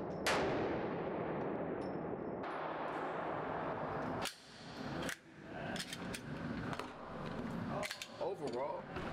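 Glock pistol fired with a Radian Ramjet compensator: several loud, sharp shots ring out at an outdoor range amid steady background noise and clanging, with people talking between reports.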